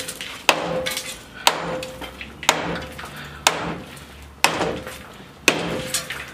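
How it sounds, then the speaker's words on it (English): A Chevy Silverado truck being scrapped takes six loud, evenly spaced hammer blows on metal, each a sharp clanging strike followed by a short ringing decay. "we hammered it over"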